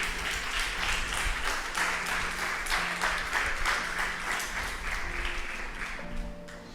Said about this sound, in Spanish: Dale fuerte ese aplauso al Rey de Reyes.